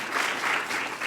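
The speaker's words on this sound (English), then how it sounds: "Can we have a round of applause for that," Audience applause at a live talk event, a brief steady patter of many hands clapping at moderate volume.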